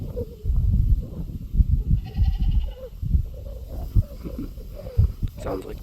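Wild goats bleating a few times from nearby among trees outdoors, with rustling and movement sounds and someone speaking quietly over them.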